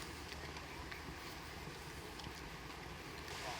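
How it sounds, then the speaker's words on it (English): Steady wind blowing outdoors during a wedding shoot, a constant broadband rush with faint gusty swells throughout, no voices. "Oh, it's getting windy, man."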